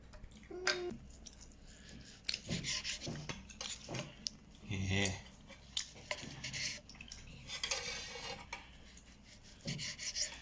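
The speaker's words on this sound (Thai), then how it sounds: "อ่าน้องมิมี่ป้าป้าหั่นให้ดูดีกว่า" A knife cuts through a grilled steak on a plate, made on a 1600-watt electric grill, with repeated scraping and clinking of metal against the dish in irregular bursts, close up and with no one speaking.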